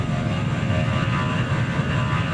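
An airplane in Transport Fever 2 hums with a steady low engine drone, constant and close, with no voices over it.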